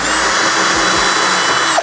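A power tool whirs steadily and loudly up close while taking the screws off a small inverter, a continuous high-pitched drive that winds down at the end.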